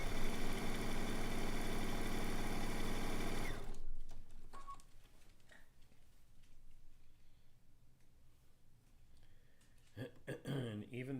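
A Baby Lock sewing machine stitching steadily, loud and continuous for about three and a half seconds before stopping, followed by quieter handling noises and a few soft clicks near the end.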